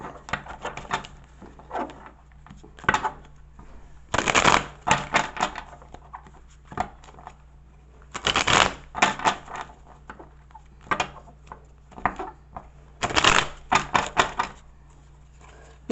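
Tarot cards shuffled by hand in a series of close, sharp riffling bursts separated by short pauses, clear and alone in a quiet room over a faint steady hum.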